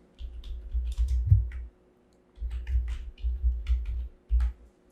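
Computer keyboard typing in two bursts of rapid soft clicks separated by a short pause, close and fairly quiet, with no voices during the keystrokes.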